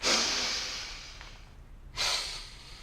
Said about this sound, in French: Prenez une grande inspiration.